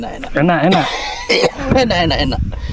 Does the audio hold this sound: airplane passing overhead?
no